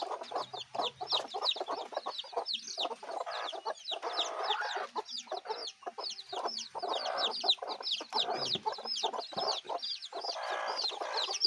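Desi Sonali chicken chicks and hens make a busy, continuous mix of chirps and clucks, many birds calling at once close by with no pauses.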